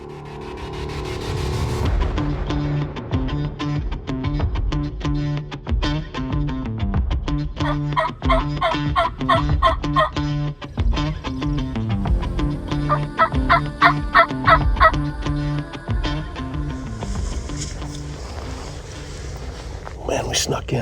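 Wild turkeys gobble from a roost in Colorado, sending repeated rattling gobbles over steady wind and outdoor rustle, with occasional voices nearby.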